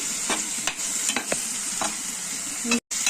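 Spinach (palak) fries in a pan with a steady hiss, and a spoon scrapes through it in repeated stirs. The sound is close and continuous, with a brief break near the end.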